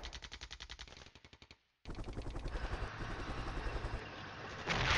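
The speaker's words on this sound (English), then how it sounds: "And our artillery strikes." Rapid automatic fire in Flashpoint Campaigns: Southern Storm, with a fast regular burst of shots, a brief silent gap, then a longer sustained rattling barrage, moderately loud.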